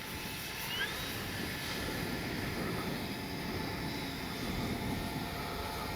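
A steady, distant engine drone of a radio-controlled Flightline F4U Corsair model warplane flying slowly overhead into the wind, fairly faint and unbroken, with wind noise in the background.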